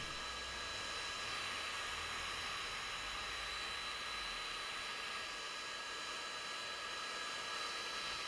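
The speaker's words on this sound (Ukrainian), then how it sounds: "Феном усадимо." Steady, loud rushing hiss of a hair dryer blowing continuously to shrink plastic, with a faint whine on top and no pauses or voices.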